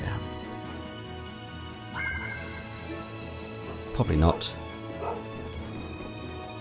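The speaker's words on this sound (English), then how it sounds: "Noisy dogs." Dogs bark and yip in a Tales of Vesperia video game scene, a short burst of loud barks near the middle over steady game music and background sound.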